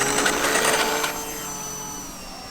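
A TopRcHobby C-400 RC airplane takes off with its electric motor whining loud and steady near the ground, then fading somewhat as it pulls away.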